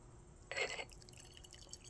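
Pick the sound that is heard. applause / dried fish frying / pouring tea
pouring tea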